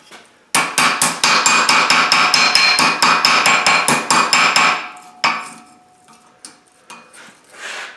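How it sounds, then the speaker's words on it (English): A small cobbler's hammer strikes red-hot metal leaf held at an anvil edge, a fast run of close, sharp ringing blows for several seconds, then a pause and a few scattered taps and scrapes. "And I like to use my little cobbler's hammer."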